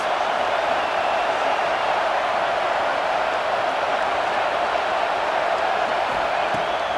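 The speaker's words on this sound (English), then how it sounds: "This crowd trying to make life miserable for this offense." Steady, dense roar of a large stadium crowd at a college football game between Oklahoma and Clemson, a continuous wash of distant cheering and yelling with no clear breaks, holding at an even loudness throughout.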